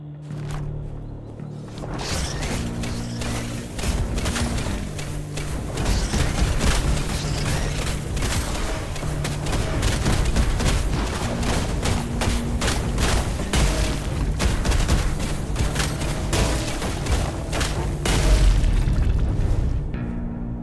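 A fire wave attack in the video game Ragnar erupts as a sustained roaring burst of booms and crackling blasts, loud and dense, with layered rumbling impacts swelling across the whole stretch.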